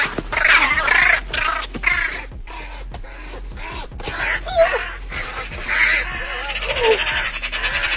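A crow caws in a few rough, repeated calls outdoors, fairly close and loud, scattered among other brief noises.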